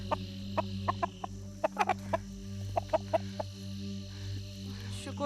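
A rooster clucks in short, repeated bursts, several sharp calls spaced across a few seconds over a steady low hum, fairly close and clear.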